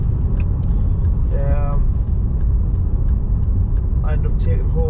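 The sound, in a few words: Maserati Ghibli car driving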